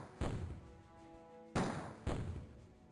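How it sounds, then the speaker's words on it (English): Three dull, muffled grenade explosions in the OpenXcom Warhammer 40k mod strategy game, each a short thump with a brief decaying tail, fairly quiet and spaced out. "2 grenade hits, that's great."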